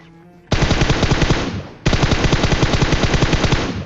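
Automatic gunfire from a battle royale video game, two loud sustained bursts of rapid, evenly spaced shots, the second starting after a brief gap, close and alone with no talk.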